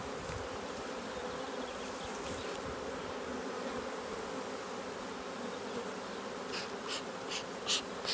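A steady, dense buzzing of many honeybees around an open hive close by, continuous throughout with a few brief rustling sounds near the end.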